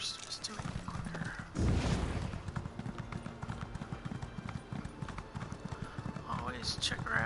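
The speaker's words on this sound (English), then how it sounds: "Let's jump on the horse just to make it quicker." Horse galloping in The Elder Scrolls Online, a steady run of clip-clop hoofbeats through the whole stretch under continuous talk, with game effects and a brief louder burst near the start.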